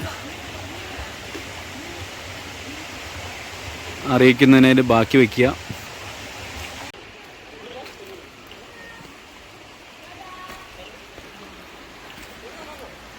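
Meenvallam waterfall on a river in Palakkad, Kerala gives a steady broadband rush of falling water that continues throughout, while a voice speaks briefly in the middle and the roar drops slightly afterward.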